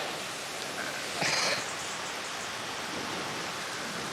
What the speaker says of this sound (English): It is pouring with rain, Lucy.